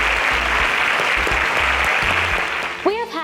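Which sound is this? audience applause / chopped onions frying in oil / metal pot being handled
audience applause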